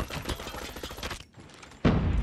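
Rapid automatic bursts from an M16 rifle in a ranked video game match, loud and dense, pausing briefly before a heavy burst resumes near the end.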